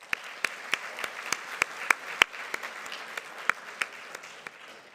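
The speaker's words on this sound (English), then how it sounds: "Please give them all a round of applause." Audience at a university student senate and equity awards ceremony claps politely, with distinct individual hand claps in an uneven, moderately paced patter rather than a dense roar, fairly quiet and steady throughout.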